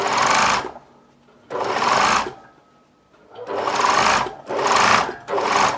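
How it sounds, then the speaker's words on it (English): A sewing machine stitches along the edge of bias binding on a garment in four loud, close bursts of a second or so each, separated by brief quiet pauses. "I'm just going to sew along the edge of the bias binding like I did"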